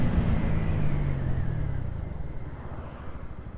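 Bajaj Pulsar N160 motorcycle cruising at about 100 km/h on a highway, a steady loud engine drone with heavy wind rush, easing slightly in pitch toward the end, with no talking.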